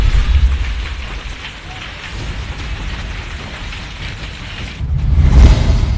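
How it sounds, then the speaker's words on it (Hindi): Heavy rain with hail falls in the Delhi NCR area, a dense steady hiss of drops on surfaces with low rumbling gusts that swell loudly near the end. "बारिश के साथ ओलों की बरसात"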